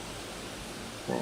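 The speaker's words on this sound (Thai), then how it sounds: "ฝนตกแล้วครับตอนนี้ อาจจะได้ยินเสียงซ่านะครับ" Heavy rain pouring outside in the middle of the night, a steady, even static-like hiss that fills the whole stretch, with a voice breaking in briefly at the very end.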